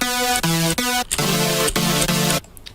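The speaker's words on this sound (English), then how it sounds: "pitch up the wider, more unison one an octave like this" Bright, thick supersaw synth chords with a buzzy, detuned shimmer and a higher octave layered on top, played in a sequence of held stabs, loud and alone.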